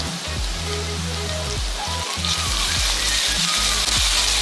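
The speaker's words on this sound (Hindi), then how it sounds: "अब मैं इसमें अदरक लहसुन का पेस्ट डालूंगी।" Ginger garlic paste hitting fried onions in a pan for chicken achari kofta, a loud continuous crackling sizzle like heavy rain, with a tonal hum running underneath.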